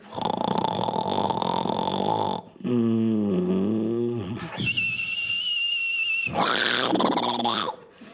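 A voice imitates loud snoring, rumbling deeply, then sliding into a high whistling whine and ending in a rough, crashing burst.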